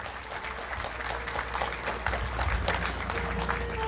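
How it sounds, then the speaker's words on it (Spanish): Guests applaud at a religious wedding ceremony, a dense continuous clapping wash mixed with low crowd rumble and faint voices throughout. "Señora Noelia Alcántara de Aldaz, fuerte las palmas para ella."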